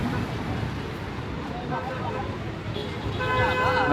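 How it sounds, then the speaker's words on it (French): Street traffic in Alexandria, Egypt, hums with a busy, steady noise, and car horns toot near the end against the background din. "il y a genre beaucoup de klaxons, beaucoup de bruit, de sons environnants"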